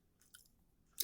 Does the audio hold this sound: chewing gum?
yes